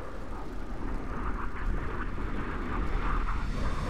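Propeller aircraft engine in the War Thunder combat flight game drones steadily through a flyby, a continuous broadband roar that swells slightly toward the end, with no talk over it.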